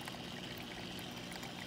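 Food dye poured into flowing water on a stream table, a continuous close pouring and trickling wash, steady and unbroken with no talk.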